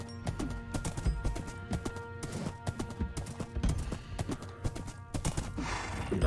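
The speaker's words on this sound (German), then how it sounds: "Und wir reiten jetzt hier mal durch die Wüste." In Minecraft, a horse's hooves clip-clop steadily as it is ridden across the desert. The quick, rhythmic beats are close and continuous, with no talking over them.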